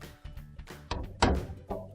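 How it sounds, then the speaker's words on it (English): Maytag dryer door being shut, several soft knocks and thunks building to a firmer closing thud, close up in a quiet room. "So we'll close the door up again."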